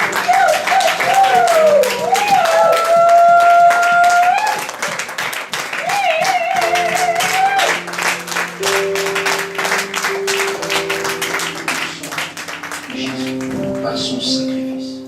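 Church congregation applauding and cheering for Jesus during a Sunday service, a dense steady run of clapping under a voice speaking and sustained musical tones, loud and close throughout.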